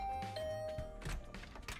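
Doorbell beside a dormitory room door in the video game The Hundred Line -Last Defense Academy-: a single electronic ding-dong chime, clear and sustained, under light game background sounds.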